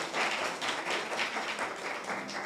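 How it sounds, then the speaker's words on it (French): An audience applauds a performer at a neighborhood talent show, a steady wash of many hands clapping at moderate distance, fairly faint and continuous. "Je vais nous applaudir Lovenda encore plus fort, s'il vous plaît."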